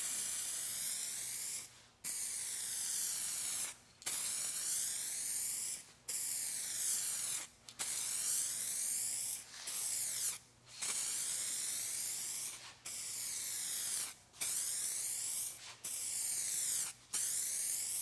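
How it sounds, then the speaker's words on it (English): Aerosol spray paint hissing in long bursts of about two seconds each, separated by brief pauses, steady and close, as rattle-can paint is sprayed onto a car. "Then we start spraying, same pattern and everything as we sprayed our primer."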